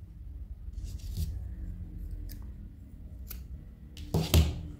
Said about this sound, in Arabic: بدي قص الخيطان